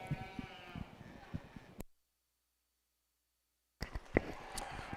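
Sheep bleat repeatedly in a busy arena at a junior breeding sheep show at the Colorado State Fair, loud and close with crowd noise around them. A stretch of silence falls midway, then the bleating resumes.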